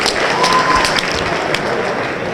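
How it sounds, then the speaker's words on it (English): An arena crowd at a regional fighting-championship bout in Tampa, Florida, applauds both fighters before the decision is read, with steady dense clapping and cheering that holds loud through the clip. "how about a nice round of applause for both fighters"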